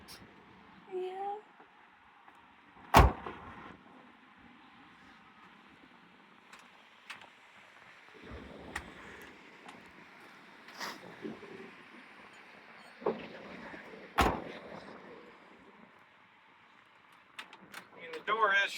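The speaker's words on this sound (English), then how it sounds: "The door is shutting," The door of a 1983 C10 pickup truck, fitted with a door striker bolt, shuts with two sharp, solid thuds spaced well apart, heard outdoors amid wind and light background noise, with a person talking between them.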